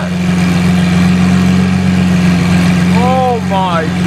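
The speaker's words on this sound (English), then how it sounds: "Listen to that Ryft exhaust." A loud, steady low exhaust drone from a Lamborghini SVJ with a straight-piped Ryft exhaust idling close by, rumbling continuously, with brief chirping whistles near the end.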